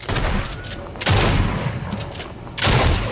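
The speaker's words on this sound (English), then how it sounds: "I hate this shotgun." Shotgun blasts in a video game battle-royale match with building, three loud booming shots about a second and a half apart, each with a broad burst and decaying tail, under faint background game noise.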